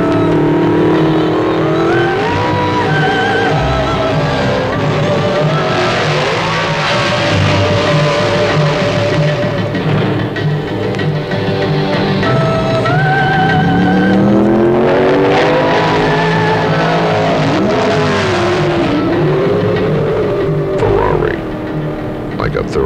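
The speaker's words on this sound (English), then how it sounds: "a brand new 1972 Flaming Fire Red 246 GT Pininfarina Dino Ferrari" A 1972 Flaming Fire Red Ferrari Dino 246 GT by Pininfarina roars loudly and steadily, its engine note climbing and falling through repeated revs for over twenty seconds, with voices talking beneath it.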